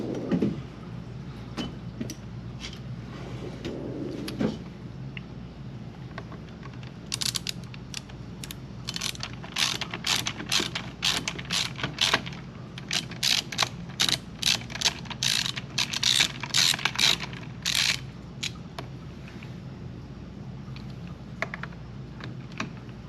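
Small tool clicks and scraping rattles at close range as a screw is worked out of the dash of a Golden Buzzaround Carry On GB-120 mobility scooter, sparse at first, then a denser burst of quick ticks.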